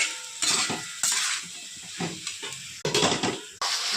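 Potatoes and cauliflower fry in spices in a pan with a continuous sizzle and hiss, while a utensil stirs and scrapes repeatedly against the metal, close up. The fry is for a katla fish curry.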